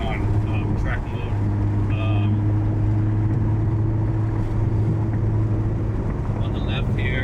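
A Ferrari F12 TDF engine running in track mode while driving, a steady, loud in-cabin drone with a low sustained hum, faint chirps above it and someone talking over it.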